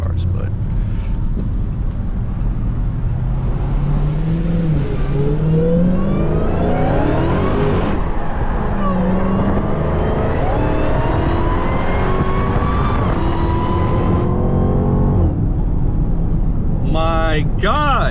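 A Dodge Charger Hellcat accelerates hard through repeated pulls, its engine roar climbing with a rising supercharger whine, loud and close from inside the cabin, with a brief break between gears.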